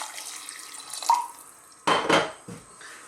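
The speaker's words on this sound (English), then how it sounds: "let's get some cold water. Enough to cover it there." Cold water runs from a tap into a pot of potatoes for a potato and onion soup, with bursts of splashing and a short clatter of the pot, close by and with no talk.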